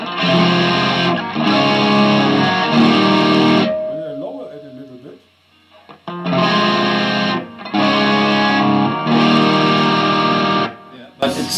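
Loud distorted electric guitar chords strum in repeated bursts with the guitar volume turned down from 10, with a brief quieter pause of softer sustained notes in between.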